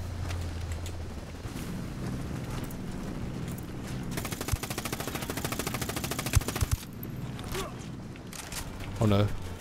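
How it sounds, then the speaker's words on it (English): Automatic gunfire from Ghost Recon Wildlands co-op play, bursts of rapid shots building into a dense fusillade mid-clip with a few sharp louder cracks, mixed under ongoing game noise. "I'm getting shot from everywhere"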